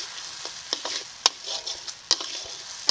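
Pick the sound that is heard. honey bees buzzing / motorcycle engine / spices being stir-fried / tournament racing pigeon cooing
spices being stir-fried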